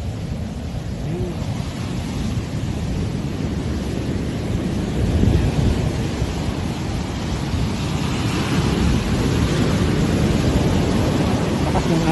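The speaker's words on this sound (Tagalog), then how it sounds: "Lakas ng alon." Strong ocean surf at La Union breaks in a steady, broad wash that swells and recedes, with wind buffeting the microphone throughout.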